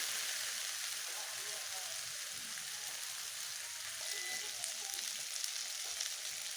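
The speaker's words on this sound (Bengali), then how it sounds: "এখন মশলাটা ভালো করে কষিয়ে নেব।" Spice paste frying in a pan for jackfruit curry, a soft continuous sizzle at low level with faint scraping and bubbling.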